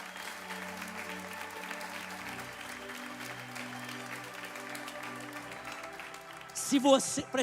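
Church audience applauds the Lord during a sermon, a steady wash of clapping under sustained music tones, with a louder burst and a voice near the end.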